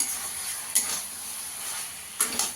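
Flat beans stir-fried in spice paste sizzle with a constant bright hiss, punctuated by two or three short bursts of louder crackling as the pan is stirred.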